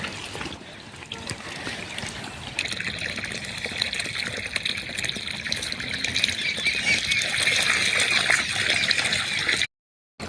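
Water runs steadily into irrigation basins on a farm, a constant close rushing trickle that grows slightly fuller midway before cutting out briefly near the end.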